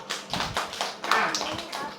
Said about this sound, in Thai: ปรบมือให้เองหน่อย